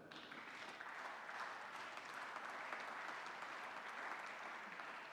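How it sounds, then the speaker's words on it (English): An audience at a European urban agenda forum applauds the city of Berlin with dense, continuous clapping, steady and even throughout, heard from a distance and fairly faint. "I would like to give the city of Berlin an applause for that."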